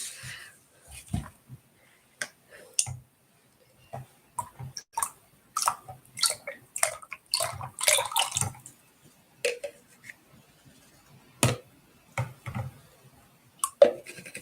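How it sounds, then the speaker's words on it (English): Lye water solution poured into soap oils for a batch of Christmas tree soap, giving intermittent drips, splashes and wet clicks close by, with short quiet gaps between the bursts of liquid. "So let's pour the lye water solution into our oils."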